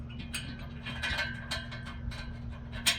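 Parts of a Mikolo M7 treadmill being slid into place and bolted together during assembly, giving a steady run of close metallic clicks, scrapes and ratchet-like clatter with no talking.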